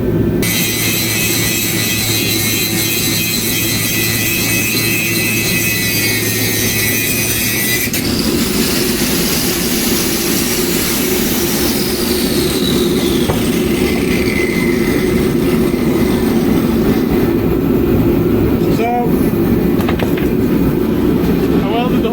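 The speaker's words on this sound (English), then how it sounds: "I'm just grinding all my welds down, making them nice and flat, so you don't even know they're there" A grinder flattens welds on a water crossover for a Sullivan intake manifold, a loud continuous harsh grinding roar with shifting pitch throughout, close and dense.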